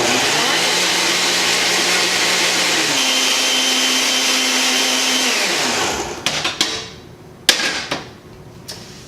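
A blender runs on high mixing keto pancake batter, a loud steady whir that shifts pitch partway, then winds down and stops, followed by a few clinks and knocks of the jar and lid.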